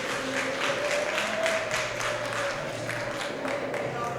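Loud, sustained applause from an audience cheering for grandfathers, a dense steady wash of clapping that stays even for the whole stretch with no talk over it.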